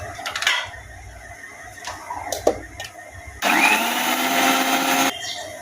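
Cumin being ground into a paste with water in an electric blender or grinder: a short buzzy motor run near the start, a few clatters, then a loud steady whir for about two seconds before it cuts off.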